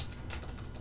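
Quick, soft keystrokes on a computer keyboard, a short run of light clicks heard close up and fairly quiet.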